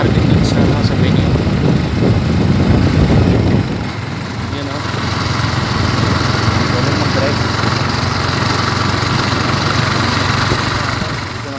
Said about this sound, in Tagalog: nakasakay tayo ng motor